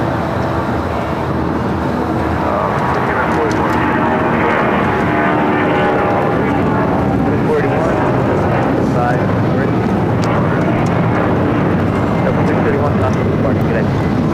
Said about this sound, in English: This is Delta Airlines 631 taking off to Mexico City on the 757-200